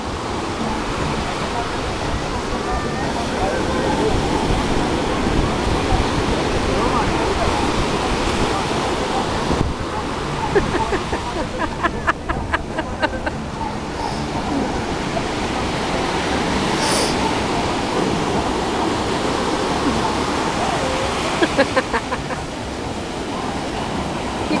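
Ocean waves break on a beach in a constant broad wash of surf, with wind buffeting the microphone and occasional voices talking in the background.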